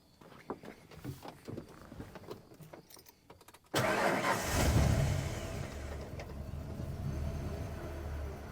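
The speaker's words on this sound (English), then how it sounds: "Now I'm going to start the truck" A truck engine is started during a fuel pressure check: a few seconds of faint ticking and cranking, then the engine abruptly catches, swells loudly with a brief rev, and settles into a steady, close rumbling idle.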